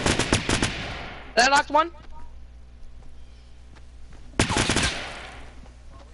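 Rapid bursts of gunfire in the video game Fortnite, loud clusters of shots at the start and again near the end, with brief talk from players in between.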